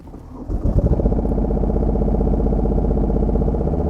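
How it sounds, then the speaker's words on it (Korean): The small diesel engine of a 2011 Yanmar SV08 mini excavator cranks briefly, catches and settles into a steady, close, low rumbling idle that continues alone. "시동 걸고 시운전도 해보겠습니다"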